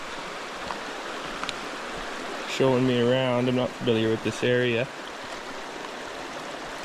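Steady broadband rush of a river flowing over exposed shale beds on Vancouver Island, constant and moderately loud throughout, with a person talking over it partway through.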